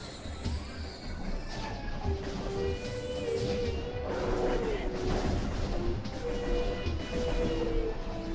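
Missiles fire in the Metroid Prime video game amid rumbling booms and a tonal electronic whine, with repeated blasts over a continuous game soundscape and a voice speaking at times.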